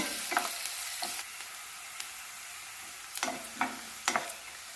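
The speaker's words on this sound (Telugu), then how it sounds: "పచ్చిమిరపకాయలు వేసుకోవాలి ఉల్లిపాయలు కొంచెం బ్రౌన్ కలర్ వచ్చే వరకు వేయాలండి" Onions and green chillies frying in hot oil in a pan for paneer fried rice, a quiet steady sizzle broken by clusters of spatula scrapes and knocks.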